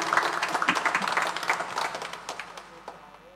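A room full of people at a church Mass in Surakarta claps for a few seconds, the applause loud at first and gradually thinning out as it fades.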